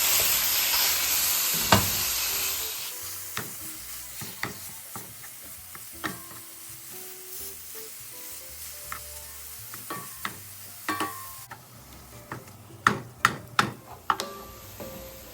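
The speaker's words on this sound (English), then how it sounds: "I'm gonna add my beef. I'm gonna break it up and brown it." Ground beef browning in a pot of hot fat for one-pot Mongolian beef ramen: a soft sizzle runs throughout, broken by spoon scrapes and knocks as the meat is broken up, growing sharper toward the end.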